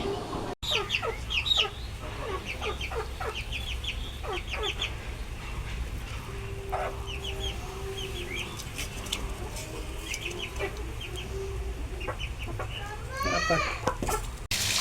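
A laying hen clucks repeatedly on a farm with other fowl about, close and clear in short bursts, with a rising squawk near the end.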